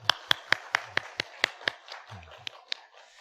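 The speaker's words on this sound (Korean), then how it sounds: "이렇게 열심히 수고하시는 분들을 위해서 우리 박수 한번 해주실까요?" A church congregation at a Sunday service claps in a sparse, faint run of about a dozen distinct hand claps, evenly spaced at first and then trailing off, with a little murmuring underneath.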